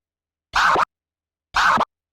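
Two short DJ scratches on a turntable, each about a third of a second long and a second apart, with sound still coming through as the platter is pulled back before the crossfader closes.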